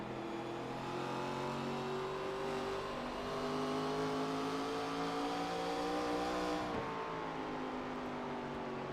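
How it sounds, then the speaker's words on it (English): Stock race cars roar steadily around a track, engines droning and shifting pitch as they pass, loud and continuous with a brief dip near the end. "Beautiful sounding cars here tonight."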